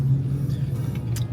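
Cars crawling in rush hour traffic, a continuous low engine rumble with faint passing swishes, moderately loud and without speech.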